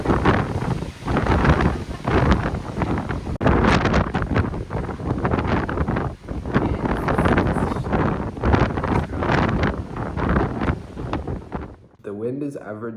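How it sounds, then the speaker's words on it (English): Strong, gusty wind in Tuscany buffets the microphone in loud, continuous roaring surges that rise and fall, with brief lulls near the end. "It's so windy here."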